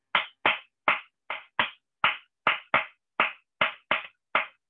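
Bare hand claps beat out the Bambula rhythm, a New Orleans second line groove: about twelve sharp, close, crisp smacks in a steady, slightly swung pattern with brief silences between, no drum or voice underneath.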